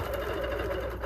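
A Bernina Q16 quilting machine runs steadily during free-motion quilting, giving a continuous, fairly quiet mechanical hum with no talking over it.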